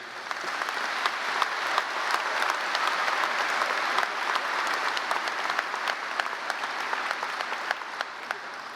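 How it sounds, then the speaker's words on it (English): Graduation ceremony audience applauding, a continuous even wash of many hands clapping at moderate level from a large crowd, with no voices standing out. "Let's give a round of applause for all the success we've had this year."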